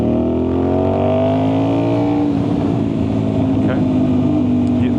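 An Aprilia RS660 sport motorcycle on a shakedown test ride accelerates hard, its loud engine note climbing steadily in pitch, dropping briefly at a gear change, then pulling up again under constant wind noise.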